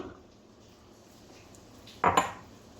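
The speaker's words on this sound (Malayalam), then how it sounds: "ഒരു മൺചട്ടി എടുത്ത് അതിലേക്ക് ഒരിഞ്ച് നീളത്തിൽ അരിഞ്ഞു വെച്ച പയറിട്ട് കൊടുക്കാം" Cut long beans drop into a clay pot in one short, sharp clatter of rattling pieces, preceded by quiet room tone.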